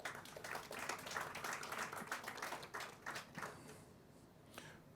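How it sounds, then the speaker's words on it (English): A TEDx audience on Hawai'i gives a round of applause for the host Mauna Lani, a burst of scattered clapping that swells early, then thins and fades over a few seconds. "How about a round of applause for Mauna Lani?"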